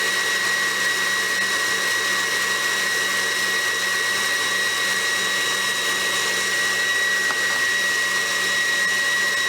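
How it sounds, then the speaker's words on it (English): An electric mixer beats lemon ice box pie filling of egg yolks and lemon juice, giving a steady, loud, even whir that runs unbroken throughout. "And then in a minute I'll stop the mixer and we'll add the sweetened condensed milk."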